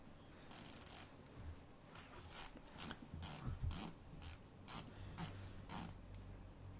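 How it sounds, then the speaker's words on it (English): The rotating bezel of a bronze tritium dive watch gives about ten crisp, evenly spaced ratcheting clicks, faint and very close, with no speech. "Bezel action is pretty good."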